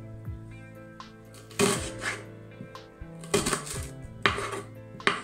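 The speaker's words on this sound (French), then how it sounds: "l'astuce, c'est de les couper en tout petits morceaux, le plus fin possible" A knife chops Swiss chard very finely on a cutting board in three clustered bursts of quick, sharp strikes, with quieter single taps between them and no talking.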